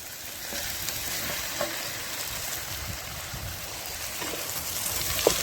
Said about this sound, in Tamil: இந்த தக்காளியை நல்லா வதக்கிக்கணும்